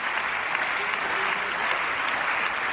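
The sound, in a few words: applause in parliament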